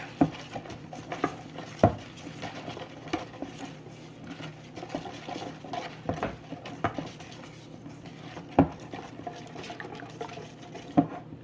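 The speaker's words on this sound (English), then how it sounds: "You want to stir until everything starts to combine." Spoon stirring wet ingredients in a bowl, giving soft repeated scraping and occasional sharper clinks against the side, close but fairly quiet, with no talking.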